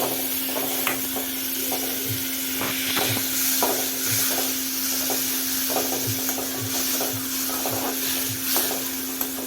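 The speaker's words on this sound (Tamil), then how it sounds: "தக்காளி நல்லா வதங்கி சுண்டி வரணும்" Tomatoes sautéing in a pan for an orange kaara chutney, a steady sizzle with a low hum and repeated soft stirring scrapes, close and continuous.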